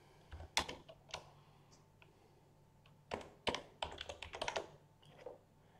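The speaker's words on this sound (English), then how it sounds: "you can type in the title of your synthesis" Fingers type a title on a computer keyboard in quick, irregular bursts of light key clicks, close and fairly quiet, with short pauses between groups of keystrokes.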